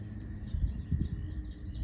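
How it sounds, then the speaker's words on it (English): Small birds chirp outdoors in quick, bright repeated tweets over a low steady background rumble, fairly close and continuous, with no talking. "I hope you guys can hear the birds"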